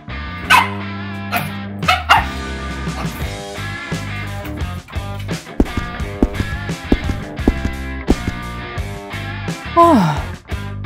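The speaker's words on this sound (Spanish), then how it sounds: "¿Por qué ladras tanto?" A dog barks repeatedly in sharp bursts with yips and a short whimper in a video game, close by, over a steady musical background.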